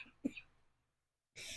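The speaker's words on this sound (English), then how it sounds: "excuse me, I'm going to cough" A single short cough around a quarter second in, followed by faint breathy trailing noise, then silence and a burst of broadband noise near the end.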